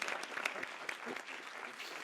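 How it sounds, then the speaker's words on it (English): An audience at a debate on capitalism versus socialism applauds the debaters and moderator, a dense, even wash of clapping heard quietly and from a distance for about two seconds. "Let's have another round of applause for our debaters and our moderator."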